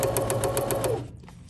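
A sewing machine stitching through paper, running in a fast, even rhythmic chatter for about a second before stopping abruptly, leaving a faint mechanical click.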